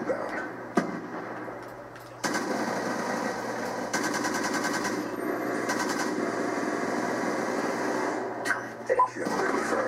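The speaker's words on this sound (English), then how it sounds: "That's one badass machine gun." A machine gun firing in Call of Duty Black Ops 2 multiplayer. Rapid automatic bursts rattle in a fast, even rhythm through the middle of the clip, layered over a steady mechanical game drone.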